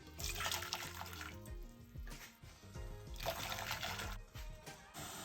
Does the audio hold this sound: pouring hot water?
yes